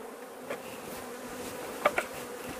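A swarm of Apis honeybees hums in a steady, close buzz, with a couple of brief louder passes as individual bees fly near.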